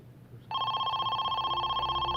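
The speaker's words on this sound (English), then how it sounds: "the phone finally rang" A telephone rings steadily with a continuous trilling electronic bell after a brief quiet stretch, fairly faint and heard alone without voices, in a kidnapping-for-ransom case.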